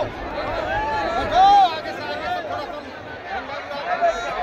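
Large crowd chattering at a political swearing-in rally at Ramlila Maidan, a dense, steady babble of many voices with occasional louder shouts rising above the hubbub.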